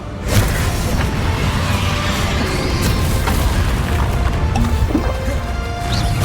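Bombarda explosion spell cast in Hogwarts Legacy, a dense crashing blast with layered debris and booming impacts that stays loud and busy throughout, with no clear single peak.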